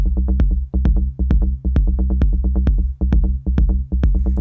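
An electronic groove loops a low bass and percussive hits in a polymeter against a steady 4/4 pulse, producing a driving, repetitive, hypnotic pattern with bright plucky accents, loud and with no voices.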